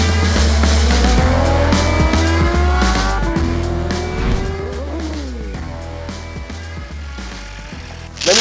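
Motorcycle laps a track at rising speed, the engine loud and close with revving pitch sweeps, gear changes and a tire squeal, then a final sharp burst near the end.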